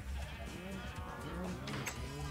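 Sheep bleating in Minecraft, a few wavering bleats close by over steady game background noise during a short stretch.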